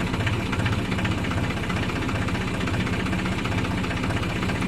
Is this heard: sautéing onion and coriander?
no